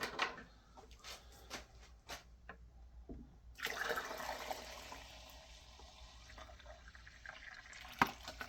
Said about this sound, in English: I'll dump a little extra water in there.